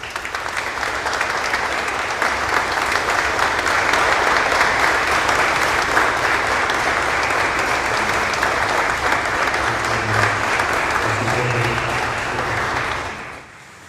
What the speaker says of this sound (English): give your loved ones a round of applause